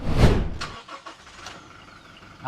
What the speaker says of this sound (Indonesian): Jadi untuk nyalain mobilnya juga gampang, walaupun ini mobil diesel ya.